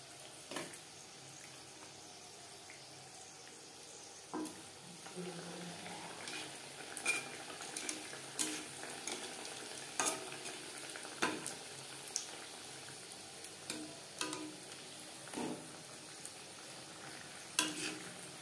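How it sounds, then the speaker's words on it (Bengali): Chicken patties fry in plenty of refined oil over low to medium flame, a steady close sizzle with scattered clinks and scrapes of a utensil against the pan throughout, no voices. "চিকেন প্যাটিস ভাজবার জন্য বেশ খানিকটা রিফাইন্ড অয়েল হাই ফ্লেমে গরম করে নিয়েছি"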